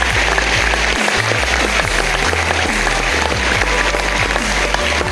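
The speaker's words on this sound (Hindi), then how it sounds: "एक जोरदार तालियां" Loud, sustained applause from a crowd at an annual recognition night in Maharashtra, clapping steadily throughout with a low hum underneath.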